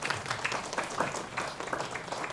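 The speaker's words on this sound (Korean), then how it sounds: "박수 한번 하시죠." A church congregation at a Sunday service gives a short burst of steady clapping, moderately faint and diffuse as if heard across a large hall, with no voices over it.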